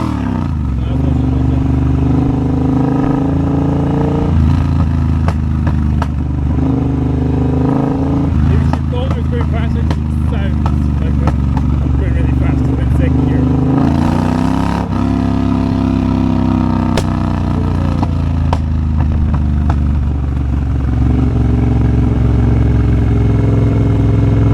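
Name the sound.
Triumph Bobber motorcycle engine revving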